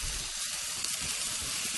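Garlic and broccoli rabe sautéing in an oiled pan, a brief, even sizzling hiss up close with no talking.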